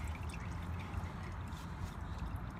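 Engine oil draining from a 2006-2011 Honda Civic 1.8L during an oil change, a steady continuous trickle and patter of liquid with low rumble underneath, constant in level throughout.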